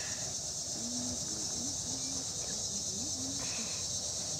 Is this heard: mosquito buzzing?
yes